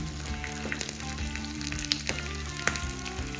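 Chana dal, curry leaves and green chillies crackle and sizzle steadily in hot oil for a tempering, with a few sharper pops rising over the continuous frying hiss.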